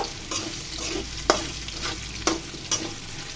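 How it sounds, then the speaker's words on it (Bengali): Potatoes fry in a pan with a steady close sizzle, broken by a few sharp scraping clinks of a spatula. "আলুগুলাকে আমি ভেজে নিয়ে আসতেছি বন্ধুরা, দেখতেই থাকো।"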